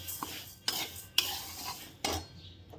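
Coriander seeds roasting in a little oil in a pan, stirred with a utensil, make three or four distinct scraping strokes over a soft crackle.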